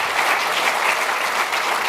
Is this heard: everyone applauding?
yes